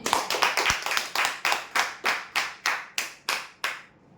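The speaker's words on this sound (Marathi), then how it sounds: "जोरदार टाळ्या होते" Applause at a prize draw in about a dozen sharp, evenly spaced claps, loud and close, each one ringing briefly before the next, then stopping.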